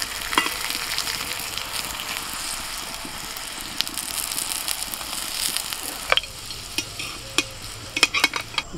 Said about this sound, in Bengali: তেল গরম হয়ে গেছে, এবার একে একে পরোটাগুলো দেবো।